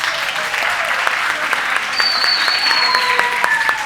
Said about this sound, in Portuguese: Se baterem palma, saibam que essas palmas são para vocês